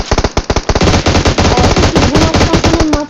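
Rapid, loud bursts of machine gun fire in a video game, a steady stream of sharp shots after a few scattered opening rounds.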